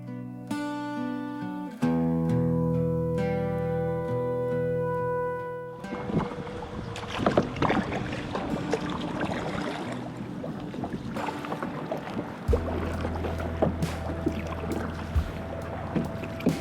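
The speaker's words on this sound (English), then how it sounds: "Starting into some rough paddling here. The wind is pretty bad today." Kayak paddling across wind-whipped Watson Lake in Arizona, with steady gusting wind noise and water splashes and churn around the boat, plus a few louder paddle strokes near the microphone; a short stretch of music plays at the start.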